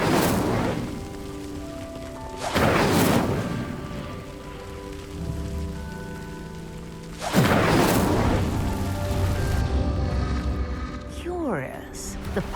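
Incendio fire spell from Hogwarts Legacy igniting a pyre: three bursts of whooshing flame, the loudest near the end, over a steady orchestral music bed, with a brief sweeping effect at the close.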